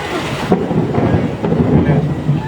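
Thunder rolls through a rainstorm over the Halvad area of Gujarat, a loud, close, continuous low rumble with two sharper cracks amid the steady wash of rain.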